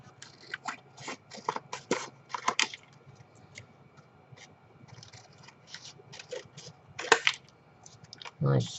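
Paper being cut by hand for making paper buttons, a series of short crisp snips and scrapes in irregular clusters, fairly quiet and close, with brief pauses between cuts and no speech.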